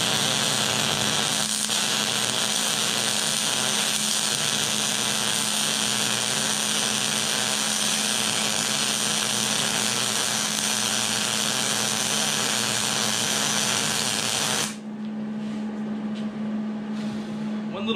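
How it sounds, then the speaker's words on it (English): A torch heating a 13-bolt differential cover before welding gives a loud, steady roaring hiss that runs unbroken for about fifteen seconds, then cuts off, leaving a quieter hum. "I'm just gonna heat this up a little bit more and then we're gonna fill that with weld"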